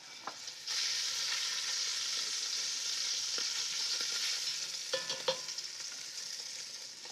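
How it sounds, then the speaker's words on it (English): Scallops dropped into a hot pan for a seafood brodetto, a sudden loud sizzle that settles into steady frying, with a few clinks and stirring scrapes near the end. "So now we'll put the scallops right in."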